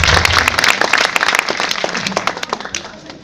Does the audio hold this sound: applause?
yes